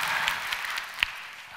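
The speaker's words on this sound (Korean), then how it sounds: "박수까지요? 확실히 쳐주세요" A church audience at a prayer meeting applauds, a soft, steady patter of many hands clapping at a distance, with a few sharper claps standing out.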